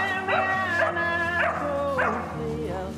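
Livestock guard dogs among sheep give repeated yelping, whining barks, several in a row, fairly close, with tonal whimpering between them.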